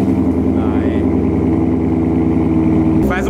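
A car engine idling steadily after a cold first start of the day, a loud close rhythmic mechanical drone with a brief change in tone near the end, while people speak over it.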